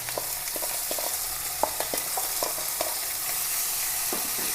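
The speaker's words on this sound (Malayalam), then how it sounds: "ചട്ടി വെച്ചിട്ടുണ്ട് എണ്ണ ഒഴിച്ചിട്ടുണ്ട് എണ്ണ വാങ്ങിയിട്ടുണ്ട് സവാള ഇട്ട് കൊടുക്കാം" Sliced onions fry in hot oil in a pan with a continuous close sizzle. Light clinks of stirring are scattered through it, and there is no talk.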